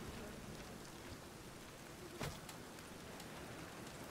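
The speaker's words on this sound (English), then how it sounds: "Yes, Geralt, it surely looks like rain." Rain falls in The Witcher 3, a faint, even hiss of steady drops with one brief louder splash partway through and no voices.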